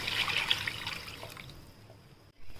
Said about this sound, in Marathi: त्याच्यात आपण मिक्सरच्या भांड्यातनं पाणी टाकूया.